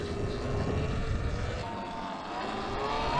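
A 72V Sur Ron electric dirt bike with an EBMX 42Ah battery pulls away on throttle, its motor giving a steady rising whine over road and wind noise on a first ride, no talking.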